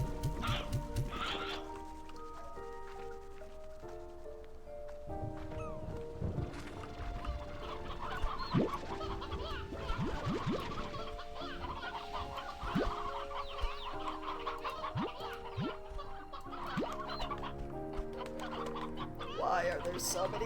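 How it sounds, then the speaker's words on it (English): Many chickens cluck and squawk in the video game Slime Rancher 2 over ongoing game music, with scattered short bursts and clicks, moderately loud, and a voice talking in places. "Why are there so many chickens? How are you breeding so quickly?"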